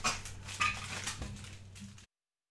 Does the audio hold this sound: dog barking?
yes